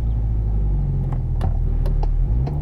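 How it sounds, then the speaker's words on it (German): A 2018 MINI John Cooper Works Cabrio with a 2.0-litre four-cylinder engine: a deep, steady engine rumble sounds close up, with a few sharp clicks over it and a slight shift in tone near the end. "starten wir mal den Motor"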